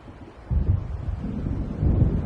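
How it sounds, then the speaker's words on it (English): Low, deep rumble of thunder from an approaching storm in the Alone in the Dark video game, swelling in at about half a second and rolling on steadily, with a second surge near the end; no voices. "It seems there's a storm coming."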